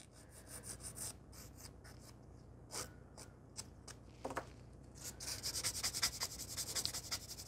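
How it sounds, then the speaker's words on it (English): Nail file rasping press-on nail tips into a coffin shape, short scratchy strokes in uneven bursts that turn rapid and steady toward the end, close and quiet with no talking. "I'm actually filing more on the bottom just because I want those nice coffin shape"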